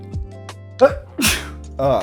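A single sharp sneeze, close and loud, with brief voice sounds just before and after it.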